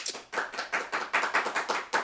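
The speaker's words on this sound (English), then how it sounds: "Is that what we clapping for?" Several people clap their hands together at close range in an uneven burst of about ten sharp claps over two seconds, with no talking over them.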